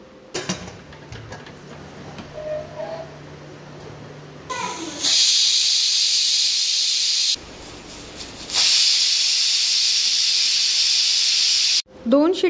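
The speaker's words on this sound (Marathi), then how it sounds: "मी आता कुकरच्या 2 शिट्ट्या करून घेणार आहे" A pressure cooker releasing steam in two long, loud, rushing hisses separated by a short pause, after a quieter stretch at the start.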